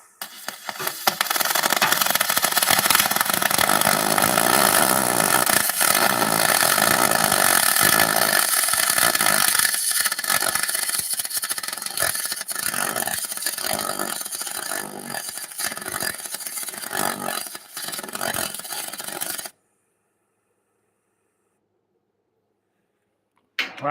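Single pulse MIG welding on aluminum produces a loud, steady buzzing crackle that runs continuously for about twenty seconds, then cuts off abruptly into silence.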